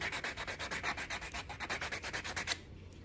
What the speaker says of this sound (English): I'm just going to use this regular file because some people don't have a electric drill